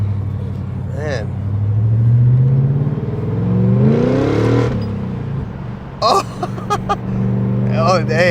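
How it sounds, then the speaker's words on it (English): A BMW E39 540i V8 with a muffler delete revs on throttle from inside the car, a deep exhaust drone that climbs in pitch and then eases off, with people talking over it near the end. "this thing sounds kind of good when it's got on throttle with the muffler delete"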